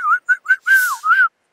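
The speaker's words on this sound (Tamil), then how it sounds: "ஏதோ என்னால முடிஞ்சளவு நான் விசில் அடிச்சிருக்கேன்." A person whistles a short tune alone, five clear, close, melodic phrases with bends and slides, the third-to-last held longest.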